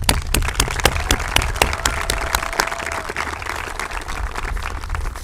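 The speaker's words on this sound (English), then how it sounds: "So let's give those parents a round of applause." A graduation ceremony audience applauds the parents, with dense steady clapping that runs the full length without a break, many hands close and loud at a fairly even level.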